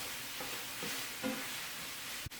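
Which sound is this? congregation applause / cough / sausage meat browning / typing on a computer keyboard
sausage meat browning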